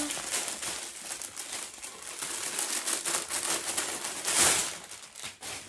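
Crinkly rustling of plastic packaging as a clothing parcel from a Veepee order is opened, with rapid irregular crackles and tearing bursts, fairly close and moderately quiet.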